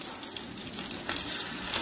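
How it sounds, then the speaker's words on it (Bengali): Onion fries in a pan before spices go in, making a continuous, close hissing sizzle with faint stirring scrapes and no talking. "পেঁয়াজটা ভাজা হয়ে গেছে, তখন"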